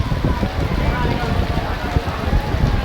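Heavy monsoon rain pours at Pinargoria station on the Rampurhat–Jasidih MEMU passenger line in Jharkhand, a dense, steady broadband hiss and patter filling the whole stretch close to the microphone.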